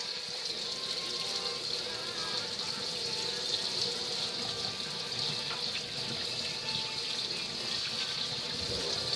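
Tap water running steadily into a kitchen sink while something is rinsed under it, a soft continuous hiss heard close and alone.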